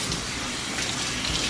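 Tap water gushes steadily over fresh spinach being rinsed, a continuous broadband splash of running water with no talk, holding level throughout.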